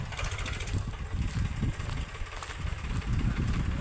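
Tractor engine running while reversing, a close, low rumbling chug with an uneven throbbing rhythm and some mechanical rattle, continuous throughout without speech.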